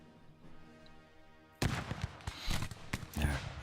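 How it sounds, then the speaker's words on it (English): Infantry volleys in a Napoleonic wargame: after a quiet stretch, a burst of loud musket fire breaks out, with a run of overlapping sharp cracks and booms continuing to the end. "I'm going to follow that up with some shooting here"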